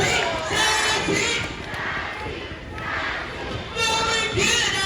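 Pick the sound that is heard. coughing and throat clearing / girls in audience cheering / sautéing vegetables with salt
girls in audience cheering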